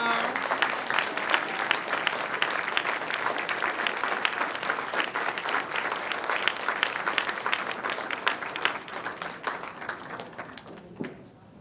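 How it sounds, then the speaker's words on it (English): At a Queer Newark community history event, the audience claps steadily and enthusiastically for about ten seconds, a dense continuous patter that thins and fades at the end. "Let's give an enthusiastic applause."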